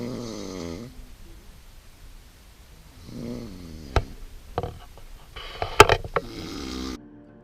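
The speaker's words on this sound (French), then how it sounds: "à cause des ronflements tonitruants de mon compagnon de tente" Loud snoring from a tent companion at a South Pole marathon camp, with a few rough, rattling snore breaths separated by quiet pauses and some sharper clicks near the end.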